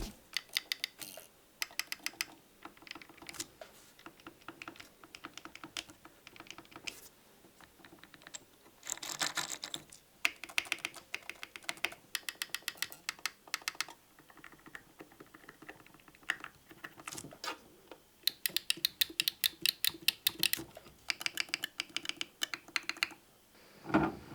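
Bursts of rapid mechanical clattering and rattling from a Logitech G923 TrueForce force-feedback steering wheel come and go in uneven spurts, like a vibrating device shaking against its mount, close and fairly loud.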